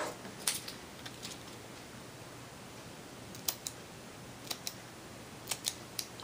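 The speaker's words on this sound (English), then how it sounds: "Just breaking the adhesive with my scissors." Faint, sparse clicks and snips of scissors breaking adhesive, a handful of small irregular taps over a quiet background hiss.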